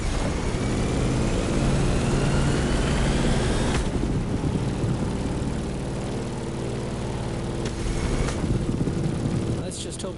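A propeller airplane in the video game The Crew Motorfest drones loudly and continuously with a rough engine hum, close and steady, easing slightly in tone midway.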